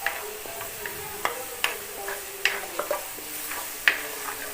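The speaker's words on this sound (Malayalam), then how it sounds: "നമുക്കൊന്ന് നല്ല രീതിയിൽ നിന്ന് ഇളക്കി കൊടുക്കാം." Chicken stirred in a frying pan, a soft sizzle under a series of sharp spatula taps and scrapes on the metal pan, about one every half second.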